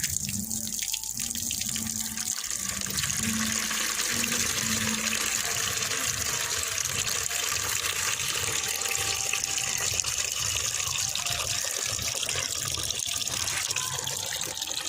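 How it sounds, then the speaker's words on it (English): Water jets streaming from holes in a vertical pipe with a water supply, used in a school exhibition demonstration of liquid jet range; a steady, continuous hiss and splash of flowing water runs throughout at constant loudness. "Now at first we will remove the wax so that we can observe the liquid jets"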